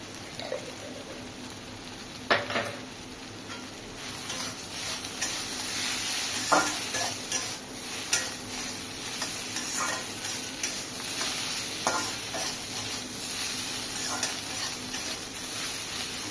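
Sliced okra frying in a pan with poppy seeds for crispy bhindi bhaja, giving a continuous sizzle broken by scattered spatula scrapes and clinks.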